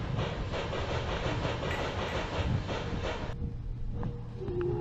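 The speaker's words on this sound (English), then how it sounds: "The monorail is going to redepart." A monorail pulls away from its stop in the video game OFF, a steady rumbling, clattering roll that holds loud for a few seconds and then drops off, leaving a quieter hum with faint tones.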